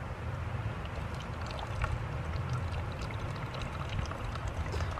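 Water runs steadily from a backpacking water filter outdoors in the High Uinta Wilderness, a continuous close pouring and trickling stream lasting the whole stretch with no talk over it.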